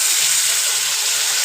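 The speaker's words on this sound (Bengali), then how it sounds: "এবার এর মধ্যে একটু অল্প একদম না দেওয়ার মতনই জল দেব" A little water poured into a hot frying pan of masala, giving a continuous bright hiss and sizzle throughout, close and loud, with no talking.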